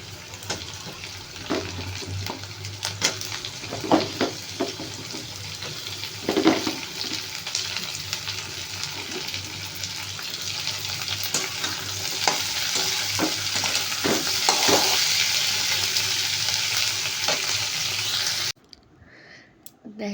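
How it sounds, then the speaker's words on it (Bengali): Capsicum with onions frying in a pan for chili soyabean, a steady loud sizzle with repeated scraping and clicking strokes of stirring throughout, ending abruptly near the close. "দেখো ক্যাপসিকামগুলো একটু ভাজা ভাজা হয়ে গেলে"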